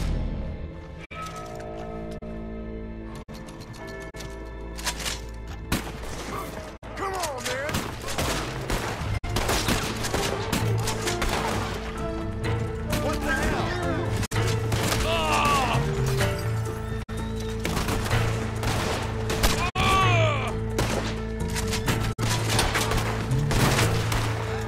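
Rapid gunfire crackles through a Red Dead Redemption 2 Online shootout in a Wild West setting, with dense volleys and single cracks running throughout under shouting voices and game music.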